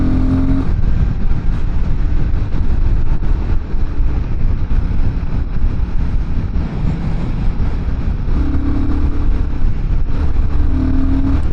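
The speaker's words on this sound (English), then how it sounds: "I still had a lot of fun shifting those gears 2, 3, 4, 5." A Royal Enfield Guerrilla 450 motorcycle pulls through the gears, its single-cylinder engine droning loudly and continuously with wind noise, the pitch rising and dropping slightly between shifts.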